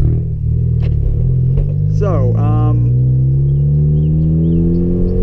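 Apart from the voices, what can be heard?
hatchback car engine while driving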